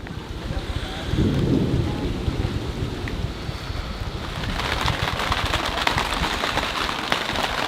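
Rain falling with thunder, a loud continuous hiss of rainfall joined by a deep rolling rumble early on, with dense patter intensifying in the second half and no one speaking.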